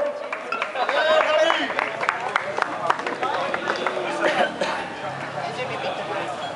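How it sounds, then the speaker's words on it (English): Crowd applause at a rugby sevens awards night, dense and sustained with voices cheering and calling out over the clapping throughout. "Round of applause for Rob."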